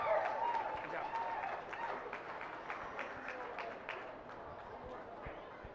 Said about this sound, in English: Let's give this young man a round of applause.